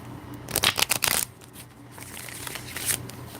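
A quick burst of riffled card shuffling, a fast flutter of snaps lasting under a second, followed by softer sliding and a faint tap.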